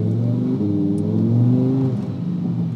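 A car engine revs hard in sport mode, a loud, close, steady rumbling drone that swells slightly in the middle and holds for nearly three seconds with no talking over it.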